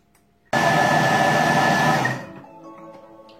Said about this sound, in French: on ferme et on va mixer 10 secondes